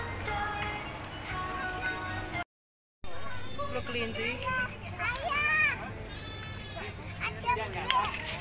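Goats bleat repeatedly at a tourist farm with rabbits and horses nearby, their wavering cries loud and close amid children and adults chattering.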